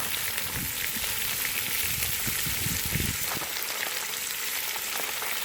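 Bacon fries over a campfire outdoors, a continuous dense crackling sizzle that stays steady throughout, close, with a few soft knocks in the first half and no one talking.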